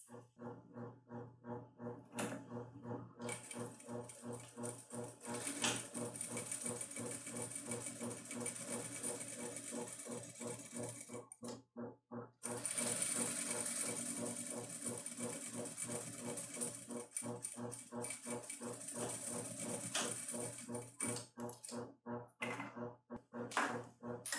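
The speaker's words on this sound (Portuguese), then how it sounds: "venho na máquina e vou passar apenas na parte superior, na parte maior, a de largura, um pezinho de máquina com ponto de número 3." A sewing machine stitching fabric with a presser foot on stitch length 3, fast rhythmic needle strokes running in several bursts with brief pauses between them.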